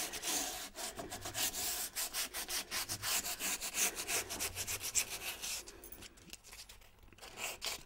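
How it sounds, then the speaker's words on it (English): Sanding painted wooden furniture by hand, a steady run of short rhythmic rubbing strokes of abrasive on wood, close and fairly loud, easing off and thinning out toward the end. "If you sand too much off, you can always go back with paint"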